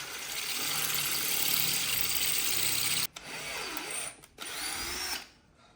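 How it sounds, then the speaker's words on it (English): A power drill drilling out a snapped crash bung bolt on a Ducati Hypermotard whines steadily, cuts out abruptly, then grinds on in two shorter bursts before winding down. "Drilling it out or? You've got to go bigger."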